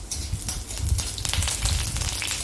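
Curry leaves and mustard seeds crackling in hot coconut oil for a raw mango pachadi tempering, a dense, steady sizzle with sharp pops and spatters close by, no voices.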